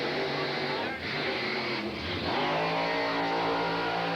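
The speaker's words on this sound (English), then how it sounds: "I think he's going to do a burnout" A wheelie drag car called the Madman runs a burnout at a drag strip, a loud continuous engine roar with brief dips and surges in revs, steady and close.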